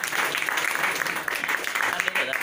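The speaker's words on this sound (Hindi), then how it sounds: "आप लोग ताली बजाकर स्वागत करें।" An audience claps in welcome at a traders' association Holi gathering in Daboh, a close, busy patter of many hands that rises and dips slightly across the moment.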